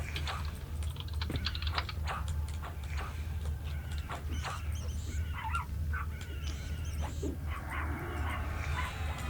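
A dog in the room yips and barks in short bursts over steady computer keyboard typing, with a low hum underneath, close and fairly quiet.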